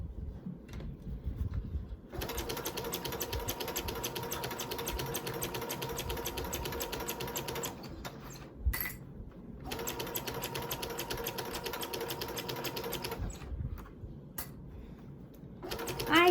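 A sewing machine stitches a seam on bias tape fabric in two long, steady runs of rapid needle chatter, pausing briefly between them, close and clear throughout.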